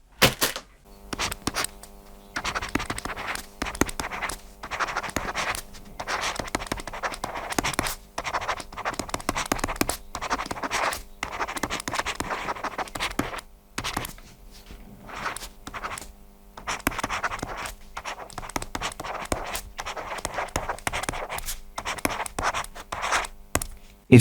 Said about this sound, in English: First, I want to do the writing test.